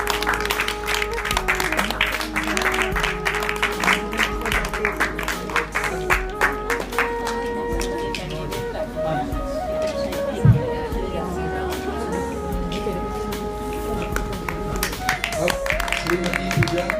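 Clapping at a prize distribution ceremony as an award recipient is honoured, scattered hand claps under a steady background of music and crowd murmur, with one sharp louder knock midway.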